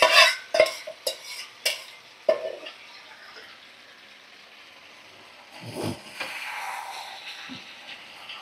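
Fried chicken pieces and fried potatoes stirred in a pan, with a few sharp scraping knocks at the start, then a soft continuous sizzle and a brief louder scrape later, close by with no talk.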